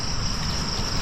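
A cricket or similar insect chirps in a steady, high buzzing trill, continuous and fairly close, with no voices over it, on the grounds of an abandoned resort.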